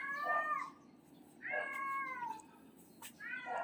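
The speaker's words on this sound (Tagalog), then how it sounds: "Sensya na, maingay yung pusa." Domestic cat meowing in a kitchen where beef stroganoff is cooking: three drawn-out, fairly faint meows separated by short pauses.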